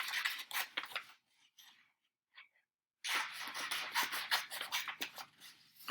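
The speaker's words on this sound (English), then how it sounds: "you just cut right here. On just the top page." Scissors snip through the top page of a folded paper riddle book: a quick run of crisp, close cuts, a short pause with a few faint rustles, then a longer steady burst of cutting.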